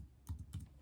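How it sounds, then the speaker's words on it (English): Typing on a computer keyboard: a few quick, faint, close keystrokes in small clusters, alone in a quiet room. "Why is my keyboard not working?"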